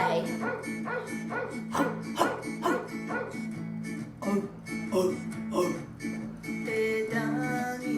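Children's voices imitate a dog, yapping out a rapid string of barks and yips, some whiny and high, overlapping for several seconds.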